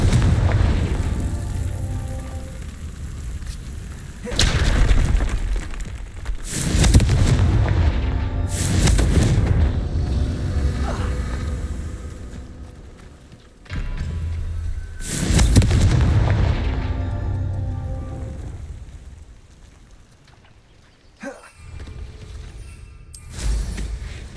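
Confringo fire spells in the Hogwarts Legacy video game burst into a series of heavy booming explosions, several loud blasts spaced a few seconds apart with rumbling tails, followed by softer game effects near the end.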